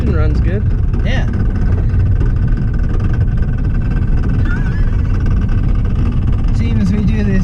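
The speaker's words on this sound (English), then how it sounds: "if your car is making this sort of rattling sound, you should probably stop driving it" A rear-wheel-drive-swapped Subaru rattles loudly and continuously while driving, a dense, rough mechanical clatter over engine drone with a voice talking over it.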